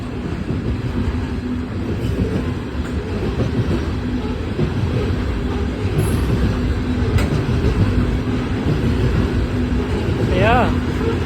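Freight train rolling through the Lincoln Street crossing in Tullahoma, Tennessee, whose warning bell is dead, giving a loud, steady roar of wheels and rumbling cars close by throughout, with a brief squeal near the end.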